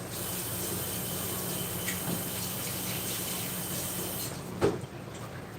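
A kitchen tap runs in a steady stream to rinse off a spoon used for measuring Dijon mustard, with one short knock near the end and no talk.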